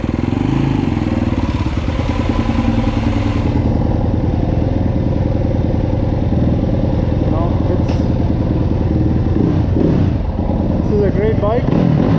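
A freshly rebuilt Yamaha YZ four-stroke dirt bike engine runs slowly at low revs through snow, a loud, close, steady throbbing rumble with slight rises in pitch and some clattering near the end.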